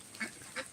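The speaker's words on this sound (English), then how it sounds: "ducks have to eat rain or shine" Two short duck quacks on a North Carolina farm as the ducks come to feed with a storm about to arrive, each call brief and fairly close against a quiet outdoor background.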